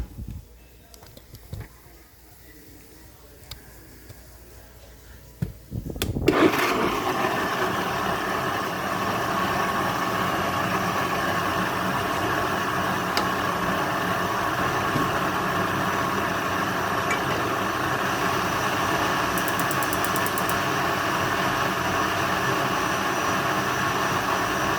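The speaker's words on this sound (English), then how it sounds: "I'm gonna put my lid on and I'm gonna blend this until it's a smooth sauce" A kitchen blender purées chilaquiles sauce. Faint handling sounds and clicks come first, then the motor kicks in abruptly and runs as a loud, steady whir to the end.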